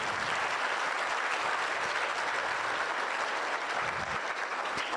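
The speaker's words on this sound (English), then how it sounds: "Give yourself a good round of applause," An audience at a spiritual celebration program gives itself a round of applause, a steady, full clapping wash that stays level from start to finish without voices.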